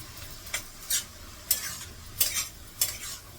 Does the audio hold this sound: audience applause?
no